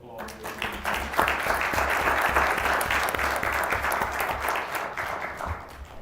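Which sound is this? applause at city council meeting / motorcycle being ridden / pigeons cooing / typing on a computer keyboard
applause at city council meeting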